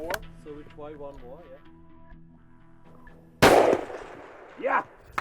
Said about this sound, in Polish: Właśnie oddałem strzał do mydła balistycznego